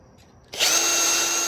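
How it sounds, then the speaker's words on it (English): A handheld power drill boring a hole for a rear ladder installation, starting abruptly after a short quiet pause and running as a loud, close, steady high whine. "Did I drill that one crooked?"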